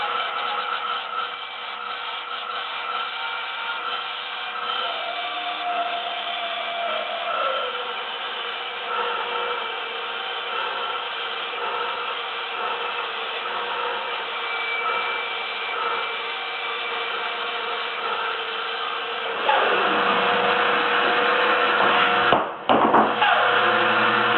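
A lathe cutting wooden turret parts for an 18th-century turret-top tea table, a loud steady whirring hum with a scraping tool edge, the pitch shifting near the end as the cut finishes, no talking.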